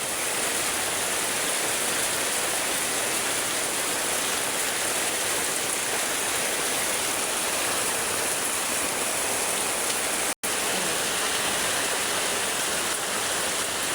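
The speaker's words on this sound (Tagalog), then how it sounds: "Lalong lumalakas guys ang ulan. Nakakatakot po yung ulan kasi sobrang lakas na." Heavy rain pours down during a flood, a loud, unbroken hiss of water that stays constant with no voices over it.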